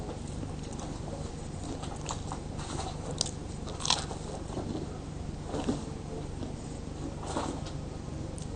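Someone bites and chews a Terra Me Su waffle up close, making crisp crunches and a few sharper bites over steady chewing, with no talking.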